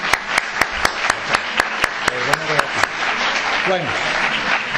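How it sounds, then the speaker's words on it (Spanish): Audience applause at an inaugural lecture for the academic year, preceded by a run of sharp, evenly spaced claps, then a dense clapping wash continuing under a man's speech. "Solo tengo que decir un aplauso"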